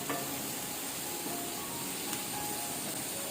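Onions sautéing in a pan with crushed ginger and garlic just added give a steady, close, low sizzle with faint hiss, continuous and without talk.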